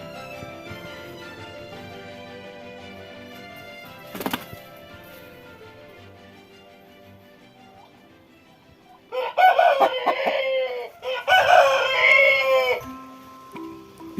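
Chicken recovered from a yellowing illness, clucking and crowing: a long quiet stretch with a sharp knock, then two loud, close bursts of harsh crowing and cackling near the end.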